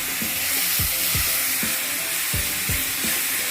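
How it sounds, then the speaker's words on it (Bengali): Spice masala for restaurant-style palak paneer sizzles in a pan after a splash of water, a loud, constant hiss broken by regular rhythmic scraping strokes of stirring, with no voices. "মশলাটা যাতে পুড়ে না যায় সামান্য একটু জল দিয়ে দিলাম।"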